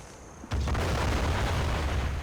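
Artillery fire in the Men of War: Assault Squad 2 war game, with a loud low boom striking about halfway through and a heavy rumbling roar that keeps going.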